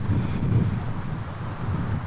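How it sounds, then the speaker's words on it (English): Wind blows through trees outdoors during a heat wave, producing a steady low rushing roar with gusty buffeting against the microphone, continuous and fairly loud, with no voices. "The wind is blowing through the trees now."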